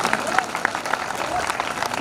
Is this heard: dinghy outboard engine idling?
no